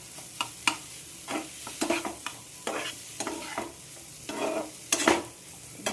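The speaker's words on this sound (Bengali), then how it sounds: "ফুলকপি কষা কষা।" Cauliflower being stirred and sautéed in a pan, a spatula scraping in irregular strokes over a soft, steady sizzle, close and moderately loud with no talking.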